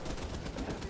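Assault rifle gunfire in The Division 2 during a Pentagon breach: a short, dense burst of rapid shots with a busy, noisy texture.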